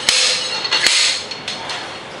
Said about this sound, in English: It's a slide hammer.